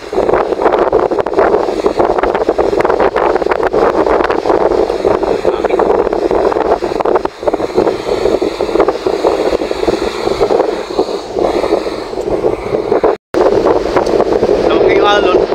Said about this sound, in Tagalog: Hindi na pinilaw dahil lalong lumakas ang hangin.